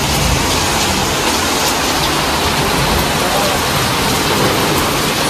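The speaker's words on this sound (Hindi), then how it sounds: "बारिश बहुत ज़्यादा बारिश शुरू हो गई है" Heavy, dense rain pours continuously during a thunderstorm, a loud, even roar of water hitting surfaces close by with no pauses.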